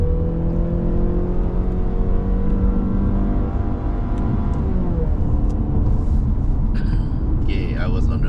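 A Mazda 6 20th Anniversary Edition engine climbing through the revs toward the limiter on a hillclimb, a loud droning rise with steady cabin rumble throughout and faint clicks near the end.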